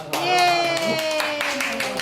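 At a Christmas party in the Philippines, a few scattered hand claps ring out among loud, lively voices.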